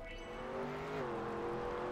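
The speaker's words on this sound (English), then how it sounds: "This is desert car." A desert car in a racing video game holds a steady engine drone with a slight pitch shift as it drives, continuous and even, with no voices.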